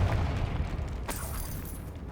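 Confringo blasting spell in Hogwarts Legacy going off as a heavy rumbling blast with a sharper crack about a second in, loud and close, then settling into a low roar.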